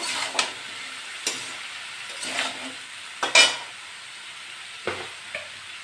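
Raw jackfruit and prawns stir-frying in a pan with salt and turmeric, a soft steady sizzle broken by a handful of sharp spatula scrapes and clinks at irregular intervals, close by.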